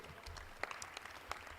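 Audience applause at a press event introducing a new head women's basketball coach for the Green Bay Phoenix, quiet scattered clapping from a modest crowd with a few sharper claps standing out.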